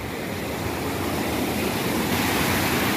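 Steady, loud rushing water fills the clip without a break, a broad continuous roar with no voices.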